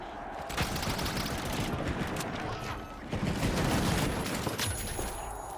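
Rapid gunfire in a ranked solo-queue shooter video game, dense bursts of shots rattling continuously with brief pauses, loud and close under faint voice.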